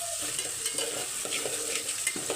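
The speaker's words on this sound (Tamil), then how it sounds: "இப்போ வெங்காயம் வந்து பாதி வதங்கட்டும்" Onion sautéing in a pan for a meal maker kola urundai kuzhambu, a soft continuous sizzle with light stirring scrapes, close and quiet, no voices.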